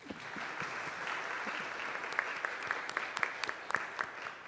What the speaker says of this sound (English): make sure we clap for you as often as possible